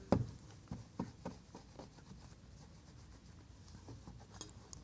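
A cloth rubs polish over a stained metal car exhaust tip in soft, repeated strokes, with a few sharper scuffs near the start and then steady, faint rasping.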